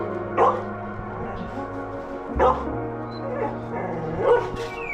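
Dogs barking in three separate bursts, spaced about two seconds apart, over a steady low mechanical hum, near a Bajaj CT100 motorcycle.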